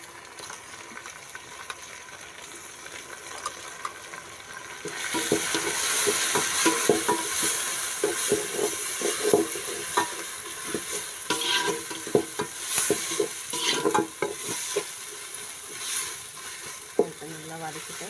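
Ginger garlic paste sautéing in a pan, a soft sizzle and frying hiss starting after a quiet moment, with repeated scraping stirs of a spoon throughout, fairly close.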